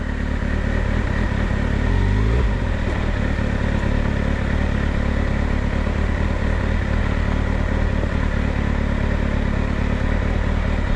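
A motorcycle riding through Sharavati Valley runs loud and close with a steady engine drone and wind rumble, a brief low shift in pitch as it turns early on, then constant road noise throughout.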